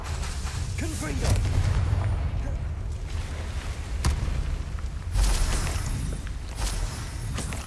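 Confringo spell blasts in the Hogwarts Legacy video game, a few booming fiery bursts with heavy low rumble amid busy combat noise, with a voice speaking over the action.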